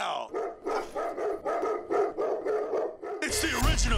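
Dogs bark in a quick, repeated series of loud, close barks at an outdoor biker gathering, followed by a brief burst of other noise at the end.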